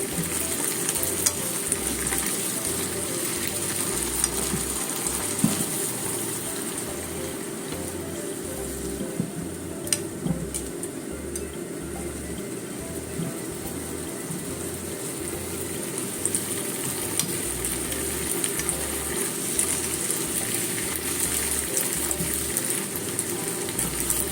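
Komatsuna greens and egg stir-fried together in a pan, a steady close sizzle with continuous scraping and stirring throughout, no voices.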